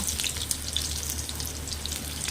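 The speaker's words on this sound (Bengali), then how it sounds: "পেঁয়াজটা যাতে পুড়ে না যায় অথচ খুব সুন্দর ভাজা হয়" Chopped onion with a dried red chilli and five-spice seeds sizzles steadily in a hot pan, a soft, continuous frying hiss with no talking.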